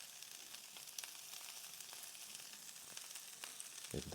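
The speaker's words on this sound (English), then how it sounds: "you can hear there's a little bit more heat in this pan now." Quiet, steady sizzling of food in a hot pan, a soft crackle with occasional small pops and no voices.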